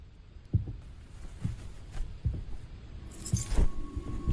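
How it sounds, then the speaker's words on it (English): Keys jangle inside a house, a handful of soft metallic clinks and rattles scattered through a quiet room, with a brighter burst of jingling near the end. "He hears keys inside the house."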